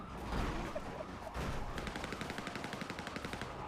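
Gunfire in a video game: a few scattered shots, then a rapid, regular burst of automatic fire with evenly spaced cracks, mid-distance, with no speech over it.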